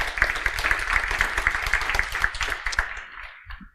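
A conference audience at a Hardwear.io 2018 security talk claps after a smart car demo, dense steady applause from many hands that fades out toward the end.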